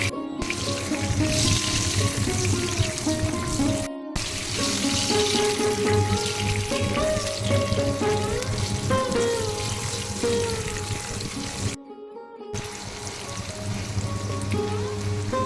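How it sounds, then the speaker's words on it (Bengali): Potato pieces frying in oil seasoned with salt and turmeric, a loud continuous sizzle close by with occasional utensil clinks, cutting out briefly twice. "এবার আমি প্রথমে আলুর টুকরোগুলো ভেজে নিচ্ছি"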